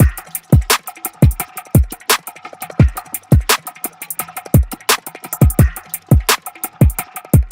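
Hip hop drum groove with layered percussion, a steady loud pattern of punchy kicks, crisp snares and busy clicking hand percussion in a tight repeating rhythm, with no voice over it.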